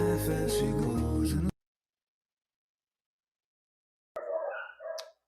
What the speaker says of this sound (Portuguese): Meus cachorros estão latindo desvairadamente aqui.